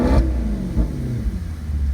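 Exhaust of a 2014 Maserati GranTurismo Sport Convertible revs in sport mode, a close, throaty burst that swells, drops back, then rises again over a deep rumbling idle, with no one talking.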